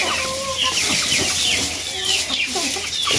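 Several young chickens cluck and chirp close by in a steady busy chatter, with occasional wing flutters.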